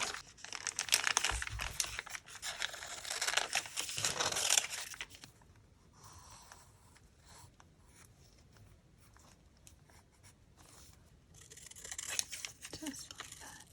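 Scissors cut through paper while homemade playing cards are being made, giving crisp crinkling snips at close range in the first few seconds, followed by quieter handling and faint rustling.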